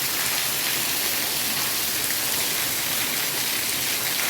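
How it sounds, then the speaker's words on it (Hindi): Heavy rain pours down in a loud, constant roar of dense hissing drops, with no other sounds breaking through. "देखो कितनी भयंकर खतरनाक बारिश आई है"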